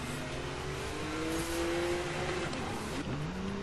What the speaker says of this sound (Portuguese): tem que cantar um pneuzinho para poder entrar na corrida